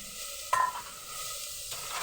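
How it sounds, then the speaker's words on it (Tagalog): Onion and tomato sautéing in a little oil, a faint hissing sizzle with a sudden louder burst as food meets the pan, then a quieter steady fry; no one speaks. "Para lang maigisa ang kamatis at sibuyas."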